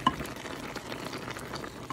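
Spinach and asparagus cooking in a pan, a quiet continuous sizzle with light stirring clicks at the start and end.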